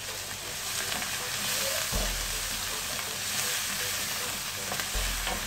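Spices with turmeric and salt being stirred as they fry in a pan, a steady sizzle with scraping strokes of a spoon, including a couple of sharp knocks, close and with no talking.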